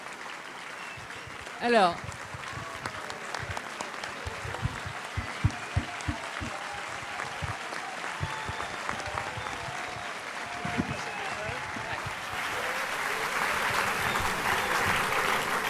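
A graduation ceremony audience applauds during a sponsor's speech, scattered and uneven claps that thicken into steadier applause toward the end, with a voice briefly speaking early on.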